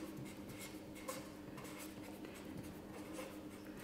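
A teacher writes words on a board in a primary-school Czech language lesson, with a soft continuous scratching and rubbing in a room with faint background noise.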